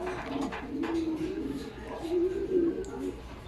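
Racing pigeons resting after a hot, hard race coo in low, repeated throaty phrases, with a couple of soft bursts close by and faint background voices.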